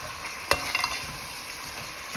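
Chicken with diced tomato sizzling in a pan, a steady close frying hiss, with a sharp utensil knock and a few brief scraping strokes early on.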